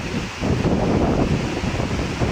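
Strong typhoon wind from Typhoon Uwan roars steadily across the microphone in the Pangasinan area, a loud, dense gusting rush that swells after a brief lull and stays continuous with no voices.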